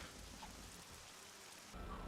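Rain falls in the survival video game 7 Days to Die, a faint, steady hiss of the downpour with no talking over it.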